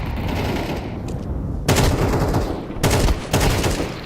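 Gunfire in a professional Counter-Strike match at IEM Melbourne 2025: three sharp, loud shots over a low, steady game background, the first one alone and the last two close together.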